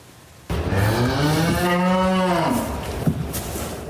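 Newborn triplet calves on an Alberta cattle farm give one long, loud, close moo that rises and falls over a few seconds, followed by faint rustling, with no talk.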